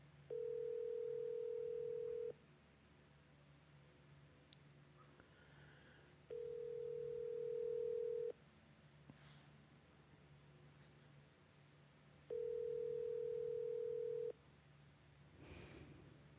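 Ringback tone of an outgoing telephone call, three long steady rings evenly spaced with quiet gaps between them, clear and close over a low background hum, with no talking.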